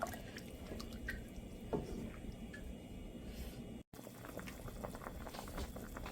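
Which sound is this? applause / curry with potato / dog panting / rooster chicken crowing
curry with potato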